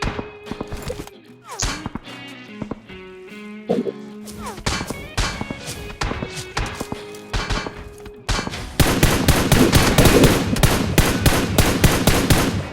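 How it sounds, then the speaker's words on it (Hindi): Distant gunfire in the mobile battle game PUBG Mobile (BGMI): bursts of sharp, rapid shots crackle through a busy in-game mix, growing denser and louder toward the end, with no speech. "भाई दूर से गोली पड़ रही है"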